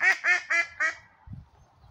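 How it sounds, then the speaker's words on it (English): Ducks quack at a lake, four loud, evenly spaced nasal calls close by, followed by faint low murmuring. "There's a lot of ducks here."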